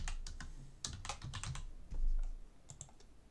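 Fingers tap out a short entry on a computer keyboard, in quick irregular clusters of close, fairly quiet keystrokes with brief pauses between them and no talking.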